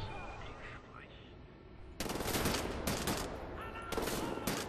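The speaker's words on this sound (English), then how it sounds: "That's a turret." Turret fire in Wolfenstein: The New Order, loud bursts of rapid gunfire starting partway through and continuing in two sustained volleys, with quieter background sounds before it.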